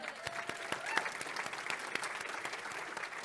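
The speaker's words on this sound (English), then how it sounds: "Get a round of applause for the 4 farmers on stage." Applause from a conference audience for four farmers on a panel stage, moderately faint and somewhat distant, with individual sharp claps standing out within a steady patter of many hands.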